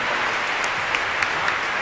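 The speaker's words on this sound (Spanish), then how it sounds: "Pues dar un fuerte aplauso a la Orquesta de Cámara del Auditorio de Zaragoza." Audience applause for a chamber orchestra at a Zaragoza auditorium concert, a dense, loud, continuous wash of clapping with a few sharper claps standing out.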